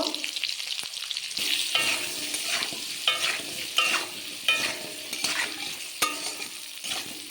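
Flat beans and prawns fry in a pan with potato, salt and turmeric, sizzling steadily while a spatula stirs and scrapes them in regular close strokes.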